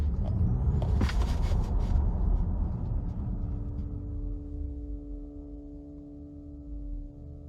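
Steady low hum from a Tesla Model Y cabin while driving, a constant drone with faint tonal lines that settle in after a brief burst of road and handling noise at the start, with no talking.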